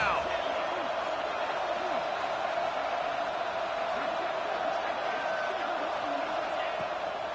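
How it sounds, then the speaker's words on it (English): Football stadium crowd in a Tulane at Texas Tech game on third down, a steady loud roar of massed voices holding level throughout, with faint scattered shouts inside the din. "The crowd electric, trying to help Tech on this 3rd down."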